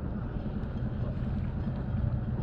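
Sailboat's inboard engine running at low revs, about 1500 rpm, while leaving harbour on a solo sail: a steady low rumbling drone with some wind buffeting, continuous and fairly loud throughout.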